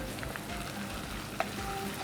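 Ginger paste frying in a pan for ridge gourd dal, a soft continuous sizzle held close but fairly quiet, with a single small clink partway through and no voices.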